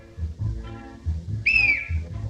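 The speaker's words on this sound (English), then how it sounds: "each hiccup accompanied by the echo of the whistle's tune" Whistle-tune hiccup effect from the silent film City Lights: a bright, sliding whistle note rises and dips once over a steady, pulsing orchestral accompaniment, clear and prominent.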